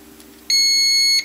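Multimeter continuity tester on a 12 volt DPDT switch gives a single steady electronic beep lasting under a second, clear and close against quiet background.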